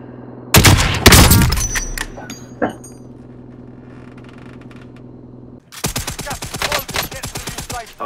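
Video game gunfire from Call of Duty: Warzone, with a loud, rapid burst of automatic shots close up, then a quieter pause, then another long stretch of fast repeated shots.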